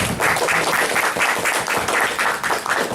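Audience applause fills the room to welcome a speaker, dense and steady clapping from many hands throughout, loud and close with no talk over it.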